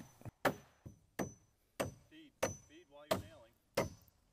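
A hammer drives nails through a double top plate into wall studs while framing a shed's bearing wall: about seven sharp, separate wooden thwacks in an uneven rhythm, close and loud, with quiet gaps between.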